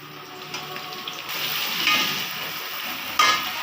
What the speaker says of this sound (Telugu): ఆనియన్స్ని బ్రౌన్ కలర్ వచ్చేదాకా కలపాలి.